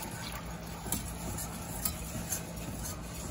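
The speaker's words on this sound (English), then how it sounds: "Try and get all this liquid in here without spilling. Just whisk it in." Liquid being whisked into a cooked roux for oyster stew, a steady soft wet scraping with faint clicks of the whisk against the pot, close and fairly quiet throughout.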